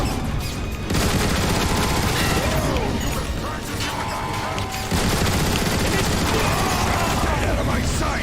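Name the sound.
gunfire in video game Transformers War for Cybertron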